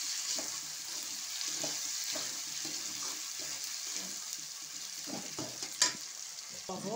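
Meat sizzles and fries in a pan of spiced masala with tomato, a quiet, steady crackle. Occasional stirring scrapes and a sharp clatter break through it near the end.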